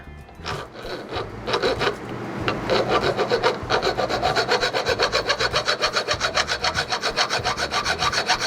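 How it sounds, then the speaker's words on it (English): A flat file rasps across the splines of a steering universal joint, cutting a mark along the edge in steady, rhythmic back-and-forth strokes that grow louder and more regular as they go. "For this one, we're gonna use a flat file, and we're just gonna put it on the edge."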